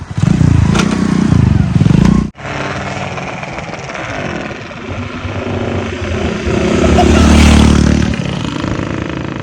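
A modified Rajdoot and a Splendor motorcycle race side by side, engines roaring loud and close, a brief cut-off, then sustained high revving that swells and fades as they pass, with no voices.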